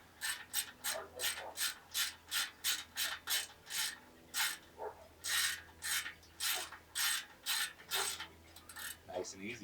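A ratchet wrench clicks in a steady run of about twenty quick strokes, loosening a bolt on a bicycle, each pull a crisp, close ratcheting burst with no talking.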